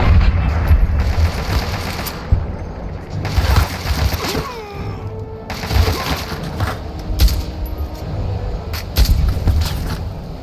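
Enemy gunfire in a Fallout game combining Fallout 3 and New Vegas, heard as loud, near-continuous bursts of shots and rattling fire throughout.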